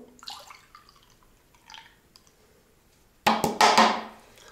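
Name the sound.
pouring juice into a glass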